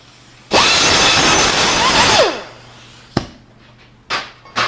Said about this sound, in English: Now we'll take the die grinder again, just clean up the inside of those holes a little bit.